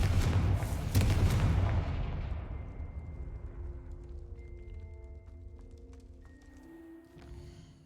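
A Confringo blasting spell explodes in Hogwarts Legacy with a loud, booming burst, then a long rumbling decay that thins into a faint ringing tail, with no one speaking.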